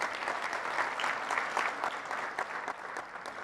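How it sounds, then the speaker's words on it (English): A quick burst of audience applause for a sponsor at the opening of a crypto conference, a full crowd clapping with a lively, uneven texture at moderate loudness. "so quick round of applause."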